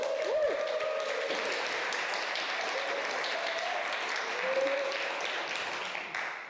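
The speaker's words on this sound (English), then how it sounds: "could you give everyone on Zoom a big whoop and round of applause to welcome them" An audience applauds and whoops to welcome remote viewers at an evening event, a steady wash of clapping with cheers over it that fades at the end.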